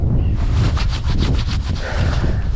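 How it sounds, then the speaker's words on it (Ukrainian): Loud wind buffets the microphone with a constant roaring rush, pulsing in gusts throughout, with no voices. "Сьогодні сильний вітер."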